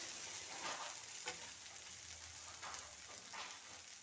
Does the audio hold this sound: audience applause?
no